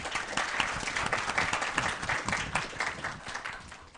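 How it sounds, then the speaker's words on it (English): At a DataFest Africa data conference panel session, the audience claps for the panelists in a full, continuous round of applause. It is fairly loud, with a slight swell and then a gentle taper toward the end. "Can give them a round of applause."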